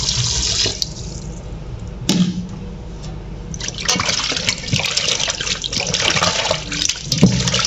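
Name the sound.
tap water running while washing duck meat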